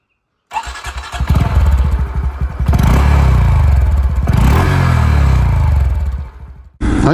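A Honda Dax 125 motorcycle engine cranks and fires up after a moment of silence, then settles into a loud, close idle with a few revs before cutting out briefly and restarting at the end.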